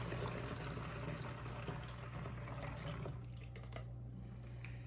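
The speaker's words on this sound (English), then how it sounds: "I have 16 ounces of apple cider vinegar. I'm going to pour in the container." Apple cider vinegar, 16 ounces, poured from a bottle into a spray-bottle container, a steady close liquid stream that thins and breaks into drips toward the end.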